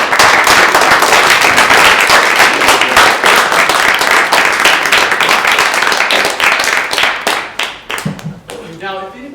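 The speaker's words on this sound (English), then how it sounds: "Let's have another round of applause." An audience breaks into a loud, sustained round of applause, with dense clapping filling most of the stretch before it thins and fades, and a voice comes in near the end.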